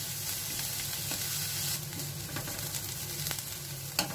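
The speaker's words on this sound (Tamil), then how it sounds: "வெங்காயம் நல்லா வதங்கட்டும்." Onions and fennel seeds frying in hot oil for a green peas kurma, a steady close sizzle with occasional soft stirring clicks and pops, no voices.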